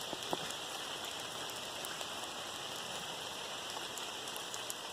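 Steady rain falling on a trail, a dense even hiss with occasional distinct drops close by, constant and unbroken with no voices.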